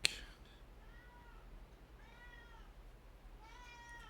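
A cat meows several times, drawn-out and fairly faint, spaced apart against a quiet background hum, with a sharp click at the very start.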